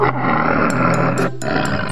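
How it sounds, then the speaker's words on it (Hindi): A giant tiger in an animated story gives a loud, close, sustained roar that fills the moment, with a brief dip near the end before the growl resumes. "कुछ समय बाद वो विशाल बाघ आ जाता है"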